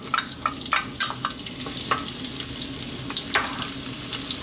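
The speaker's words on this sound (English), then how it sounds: "We're going to start off by dropping in our onions." Onions frying in hot olive oil on a cooker for a vegan spinach mushroom tomato pasta. A loud, steady sizzle with a few spoon clicks and scrapes, close up and with no talking.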